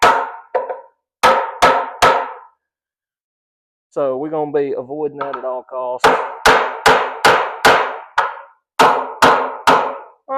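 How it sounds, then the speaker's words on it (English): Sharp hammer blows tacking together the wooden frame of a chicken brooder, struck in quick bursts of two to five ringing hits, loud and close, with a short stretch of someone talking between the bursts. "take a hammer and tack it in"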